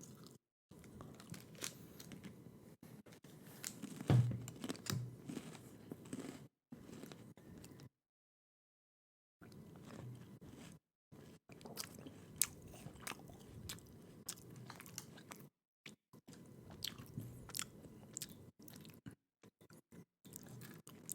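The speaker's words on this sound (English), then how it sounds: "I'm just going to eat my crackers to finish out the segment." Crackers being eaten up close, with crisp bites followed by quiet, irregular crunching and chewing, broken by a short silent gap, with no talking.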